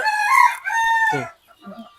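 A rooster crows loudly up close, followed by a few soft, scattered clucks from caged breeding hens.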